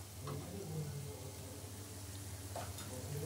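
Sugar palm fritters fry in hot oil with a soft, steady sizzle and occasional light taps, fairly faint throughout.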